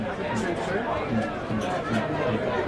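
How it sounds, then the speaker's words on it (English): A large crowd at a non-league football match between Andover New Street and AFC Whyteleafe, a steady, dense hubbub of chatter and murmuring that fills the whole stretch at an even, moderate level. "Such a big crowd here today."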